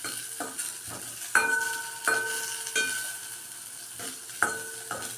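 Pancit noodles with vegetables and sardines are stir-fried in a pan, giving a constant sizzle broken by repeated scraping and clinking stirs of a utensil against the metal.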